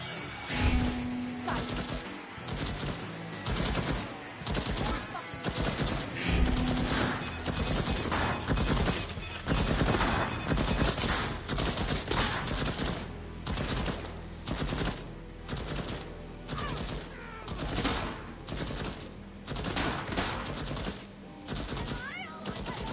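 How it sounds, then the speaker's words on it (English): An automated gun turret fires in Deathloop, a first-person shooter, with long, dense stretches of rapid gunfire crackling and booming almost without pause, mixed with other game noise. "That turret doing some work, ain't it?"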